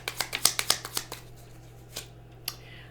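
Tarot cards being shuffled by hand: a quick run of crisp riffling flicks and snaps up close, then a few slower, scattered card taps.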